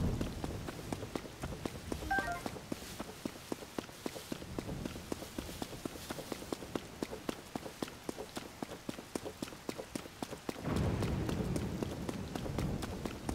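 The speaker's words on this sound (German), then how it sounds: "Der Regen macht mir nichts." Rain falls in the video game Zelda: Tears of the Kingdom, a soft, constant patter heard at low level under quick rhythmic footsteps of a running character, with a broader whooshing swell near the end.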